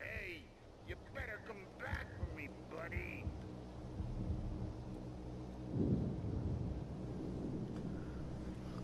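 Thunder rumbles with steady rain in a stealth action video game, a low rolling roll that swells after the midpoint, with scattered game voices and effects over the wet background.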